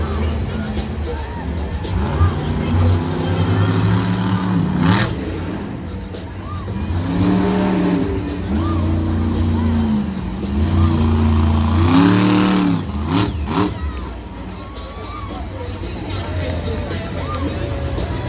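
The Monster Mutt Dalmatian monster truck's engine revs and roars in a stadium at a Monster Jam show, with rising and falling throttle over crowd hubbub, and an announcer talks over it.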